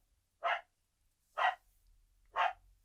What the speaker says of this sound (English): my dog started barking like crazy